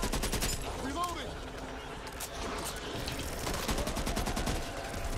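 Rapid automatic gunfire in the video game Back 4 Blood, bursts of dense cracking shots filling most of the span, with voices talking over the shooting.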